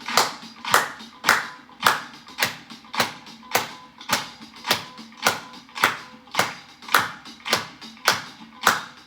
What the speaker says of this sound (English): and you clap like this.